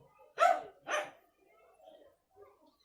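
A female dog gives two close, sharp barks in quick succession, followed by faint, quieter whimpering sounds.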